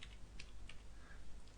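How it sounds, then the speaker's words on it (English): Quiet typing on a computer keyboard, a few scattered key clicks over a low steady background hum. "Just start to type on the keyboard"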